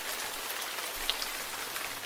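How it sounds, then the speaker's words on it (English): Gentle steady rain from the Oticon Tinnitus Sound app, a soft even hiss of drops on a surface with no talking. "anybody suffering from tinnitus can play the gentle sound of rain whilst they go to sleep"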